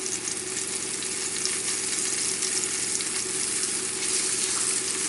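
Filet of sole sautéing in a pan gives a steady, dense sizzle and crackle that holds even and fairly loud throughout, with no voices.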